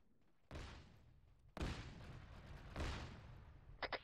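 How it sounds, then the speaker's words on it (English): Autocannon fire from a BTR armored vehicle in ArmA 3 combat: three heavy booming shots spaced about a second apart, each with a long rumbling decay, followed by faint short pops at the end. "BTR's engaging us"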